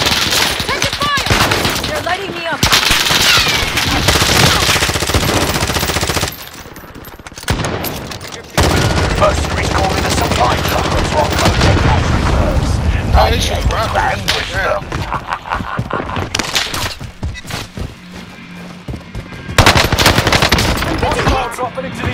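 Dense automatic gunfire in the video game Call of Duty: Warzone, with loud, sustained bursts and volleys that break off briefly and resume, mixed with game effects and talking voices.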